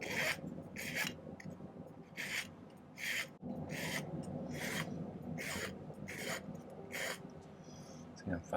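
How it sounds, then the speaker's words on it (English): Steady rhythmic rasping strokes of a hand file on small silver ring parts worked at angles, about ten even strokes close to the mic, with no talk. "I'm filing at angles so that they'll sit in kind of a tripod sort of manner here"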